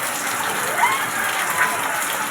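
Steady rain keeps falling outside a flooded home, a continuous close hiss of drops on surfaces with a couple of faint brief tones over it.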